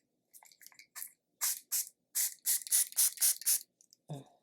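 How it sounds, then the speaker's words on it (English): Makeup setting spray misted from a pump bottle in a series of short hissing sprays, some quick and some longer, close and fairly quiet, with no talk. "I love a good setting spray."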